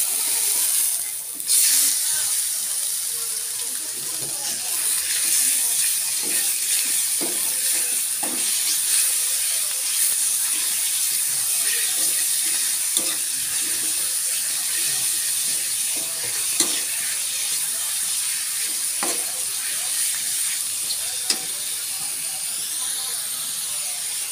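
Chicken parts frying in hot oil in a pan, a loud, steady hiss and crackle of sizzling that begins suddenly and holds unbroken throughout, with small pops scattered through it.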